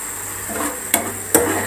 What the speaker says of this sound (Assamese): মাজতে মই একবাৰ লৰাই দিছোঁ।